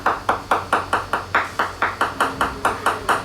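Hard taps on thick gel coat over a new Leopard catamaran hull, a steady run of about fourteen evenly spaced knocks, each with a bright ringing pitch and a brief reverberant tail, close and alone.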